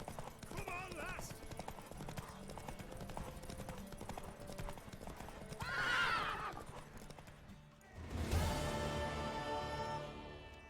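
Horse hooves clip-clop at a gallop in The Witcher game, steady rapid footfalls under a whinny, snorting horse sounds and a burst of crowd noise near the end, with talk layered in.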